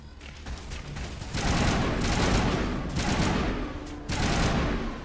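Sustained bursts of assault rifle fire crackle in a video game, loud and dense, with short pauses between long rattling volleys.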